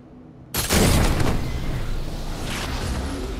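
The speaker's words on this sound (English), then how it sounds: "I'm gonna come over to you with the siege cannon." A siege cannon fires in a video game with a sudden heavy boom and whoosh, followed by a sustained rushing roar that trails off with a second softer surge.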